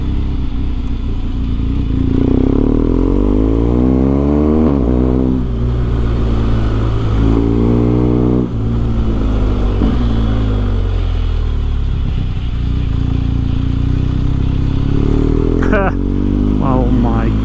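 A BMW R1250GS motorcycle engine revs loud and close, rising and falling through several throttle sweeps with a constant rumble underneath, while a voice speaks briefly over it.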